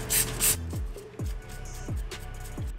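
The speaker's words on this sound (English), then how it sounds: "Now I'm just gonna spray the parts down with some degreaser" Two quick bursts of aerosol degreaser spray hiss onto carbon-coated RM250 engine parts at the start, followed by a series of soft, repeated low thumps.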